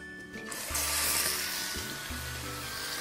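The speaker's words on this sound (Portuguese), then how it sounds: "vou refogar a nossa carne." Meat hits a hot pan with olive oil and erupts into a loud, steady sizzle that continues, with low clattering sounds underneath.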